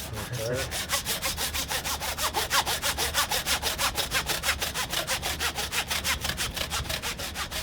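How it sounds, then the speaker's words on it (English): A hand saw cuts through a beef rib primal in fast, even back-and-forth strokes, a close, loud, regular rasping that keeps up without a break, with no talking. "Yes, you're hand cutting it, huh?"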